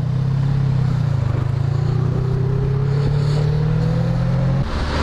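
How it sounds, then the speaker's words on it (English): A small motor buzzes steadily close by, its pitch slowly climbing as it passes, with wind noise throughout. "that guy's on a moped"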